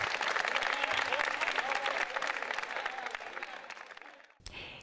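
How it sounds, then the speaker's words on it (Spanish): A crowd applauds steadily for several seconds, a dense wash of clapping that fades out, followed by a brief burst of other sound. "premios y aplausos para el gran vencedor"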